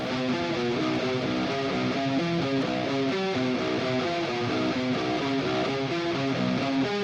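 A rap metal riff on distorted electric guitar through a Peavey amp on its lead channel with low gain, two takes panned hard left and right, dense chugging chords played steadily and loudly with no talk.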